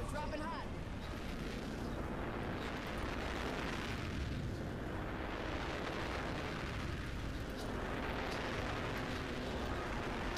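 Artillery strike explosions in the battle game Apex Legends rumble as a continuous, loud barrage of booming blasts in slow waves across the whole stretch, with no clear pause between impacts.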